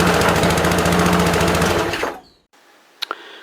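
A small petrol lawn mower engine runs at a fast, loud, steady chatter, then cuts out abruptly and falls silent apart from a couple of faint clicks.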